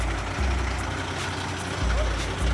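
A semi truck idles with a deep, steady diesel rumble while the trailer is dropped, the low engine drone pulsing slightly and broken by brief mechanical thumps, close by.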